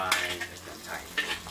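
Jiam chai, salted vegetable, fries with black sauce in a pan, giving a short, close burst of sizzling and stirring with a couple of quick scraping strokes and no talking.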